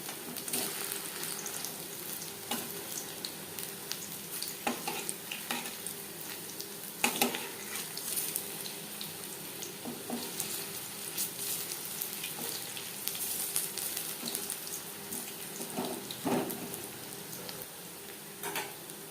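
Continuous soft sizzling of curry pakoras frying in oil, with occasional clicks and stirring sounds, no speech.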